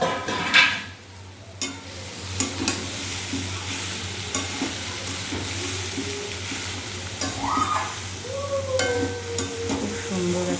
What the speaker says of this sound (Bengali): এই যে ঢাকাটা আবার তুলবো, তুলে একটু নাড়া দিয়ে দেবো।